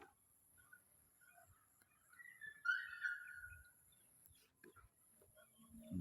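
A single bird calls outdoors in a quiet rural setting, a clear tonal whistle rising and then fading in the middle, over faint low rustling.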